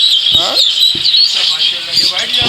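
Several white Java sparrows chirp close by in a bird keeper's collection, with short bright tweets and repeated calls over a constant high-pitched chatter of other cage birds.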